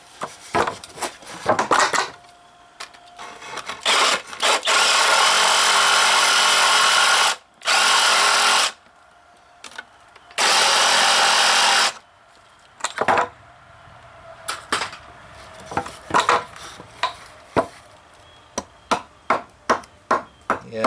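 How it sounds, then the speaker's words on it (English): A Sawzall reciprocating saw cuts wood flat at an off-grid wood shop. It makes loud, close buzzing bursts of several seconds each, separated by pauses and followed by clatter and knocks. "I can hit that with a sawzall. Make it flat."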